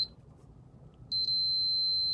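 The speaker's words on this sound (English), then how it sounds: "when you get that beeping sound, you know that you have continuity" A multimeter set to continuity gives its beep as probes touch both terminals of a fuel pump for an LS swap: a short high tone chirps briefly, then a steady electronic beep holds continuously to the end over faint background hiss.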